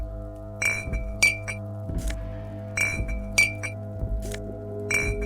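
Empty glass bottles of Commodore Red and potent Pilsner clinking as they are picked up in the video game Disco Elysium, a repeated pattern of bright ringing clinks and soft thunks, close and clear, looping about three times.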